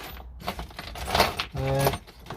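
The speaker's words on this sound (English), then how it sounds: "Quite a few wee Allen keys here" A pile of small Allen keys, leftover flat-pack furniture tools from a clear-out of a tool collection, jangles and clinks metallically in a steady shaking rattle, close and fairly loud, with no speech.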